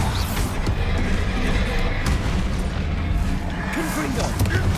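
Bombarda blast spells explode in the Hogwarts Legacy video game, loud booming bursts over a dense, busy battle soundscape, with voices calling out during the fight.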